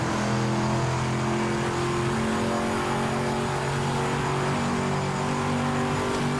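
A race car engine in the driving game Project Motor Racing drones steadily at high revs, loud and continuous throughout with small shifts in pitch, the engine sound alone without talk.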